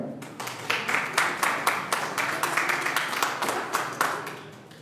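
A church congregation applauds in a rhythmic, unified clapping at a steady beat, loud and close, filling the space for several seconds.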